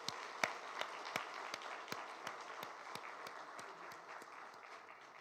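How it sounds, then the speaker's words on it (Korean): Congregation at a Sunday afternoon church service applauds graduates of a year-long training course, a faint, distant, even patter of many hands with a few sharper individual claps standing out. "이 수료생들을 위해서 한번 큰 박수로 축하해 주시기 바랍니다"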